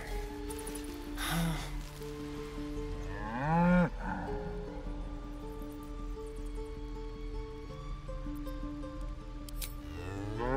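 A cow moos inside the video game Baldur's Gate 3, with loud, drawn-out lowing calls rising and falling over a steady, droning game soundtrack.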